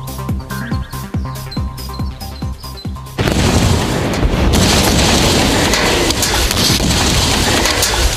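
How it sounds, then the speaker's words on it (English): Cesium metal dropped into water explodes from rapid hydrogen generation. A few seconds of rhythmic ticking clatter give way to a sudden loud, sustained broadband roar that continues to the end. "As our cesium sinks in the water, the rapid generation of hydrogen gas should produce quite an explosion."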